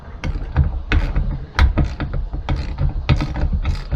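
Clamp being tightened on an RV, a rapid run of sharp ratcheting clicks and metallic ticks, close and fairly loud, repeating in uneven bursts over several seconds.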